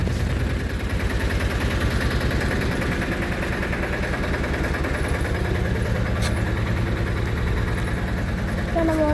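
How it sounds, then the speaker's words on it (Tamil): A parked vehicle's engine runs at a steady idle, a continuous low throbbing rumble close by that holds level throughout with no clear start. "இப்போ தான் வண்டி கிளம்ப போனேன்."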